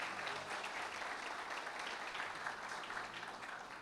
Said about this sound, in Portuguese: vamos aplaudir Jesus por essa palavra